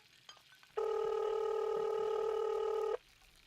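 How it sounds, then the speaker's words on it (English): A telephone being dialled, heard as one steady electronic tone that holds for about two seconds and then cuts off, clear and close against a quiet room. "I'd better phone Julia."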